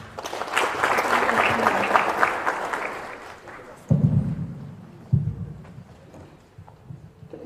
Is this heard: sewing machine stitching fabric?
no